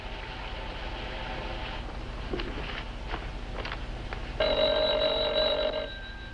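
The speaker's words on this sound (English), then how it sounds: "Your phone's ringing." An old-fashioned telephone bell rings indoors in a long, steady burst after some faint knocks and shuffling, heard clearly with no talk over it.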